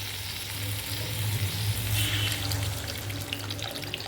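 Water poured into a pan of eggs cooked down with spices in oil, setting off a steady, loud sizzle with a bubbling, splashing wash over it, continuous throughout.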